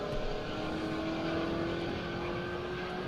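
A mid-engine race car lapping the Circuit of the Americas during a Super Lap Battle session, its engine a steady continuous drone with a sustained tone that holds level and loud throughout, no voices over it.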